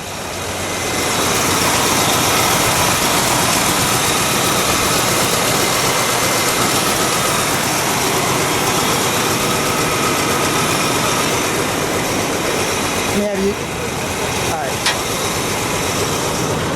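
1972 Plymouth Road Runner GTX with a 440 engine idling, a loud steady rumble throughout, with a brief clunk near the end.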